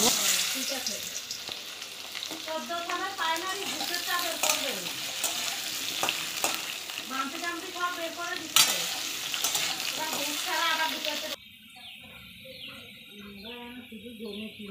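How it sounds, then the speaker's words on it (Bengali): Potatoes added to hot oil with cumin in a wok give a steady, close, continuous sizzle and hiss, with faint chirping and tonal sounds in the background. "কড়াইয়ের মধ্যে তেল দিয়ে নিয়েছিলাম, এবার পরিমাণ মতো জিরে দিলাম। আলুগুলোকে এবার সব দিয়ে দেবো।"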